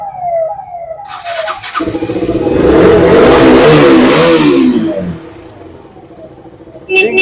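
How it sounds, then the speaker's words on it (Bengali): A KTM Duke 200 motorbike from 2015 revs loudly nearby, the engine climbing in pitch through repeated throttle blips, then settling to a lower idle before a final sharp burst. "গাড়িটা একবার সাউন্ডটা শুধু শোনা"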